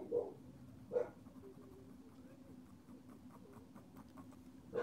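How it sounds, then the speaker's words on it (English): A dog barks at the mailman from a distance, giving three faint, evenly spaced barks over a quiet indoor background. "there's my doggy barking at the mailman or our neighbors"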